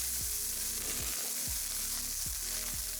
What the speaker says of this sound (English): Make sure you get that beef nice and brown.